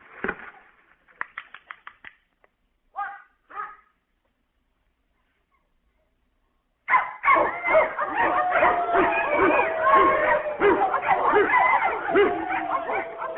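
A dog named Strudelmeyer yips and whimpers in a few short bursts, then after a pause barks, howls and whines continuously and loudly while a record plays.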